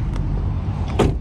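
The door of a Renault Clio V shuts with a single close, solid thump over a low background rumble, preceded by a faint brief click.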